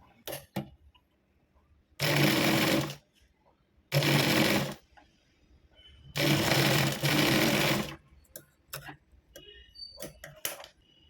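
Sewing machine running in several bursts of about a second or two each as it stitches a blouse latkan seam, with a louder longer run near the middle, separated by quiet pauses with small clicks and handling noises.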